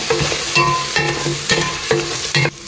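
A spatula stirs diced potatoes and masala powder in a pot for a one-pot meal, with close, repeated scraping strokes about every half second over a steady sizzle and no talking.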